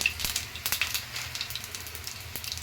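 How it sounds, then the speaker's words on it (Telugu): Cumin and mustard seeds hit hot oil in a kadai for a chicken gongura curry, giving a soft steady sizzle with scattered faint crackles and pops, fairly quiet and continuous with no talk. "ఆయిల్ అయితే వేడెక్కింది దీనిలోకి జీలకర్ర ఆవాలు"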